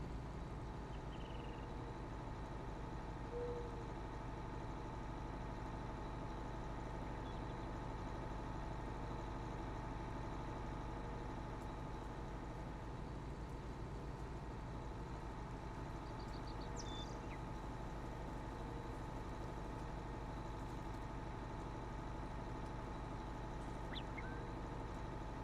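Farm tractor engine in Farming Simulator 19, a steady low idling drone that hums on without pause and without talk over the clip.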